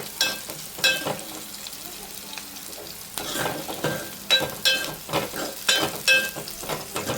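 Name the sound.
onions and green chillies frying in a pan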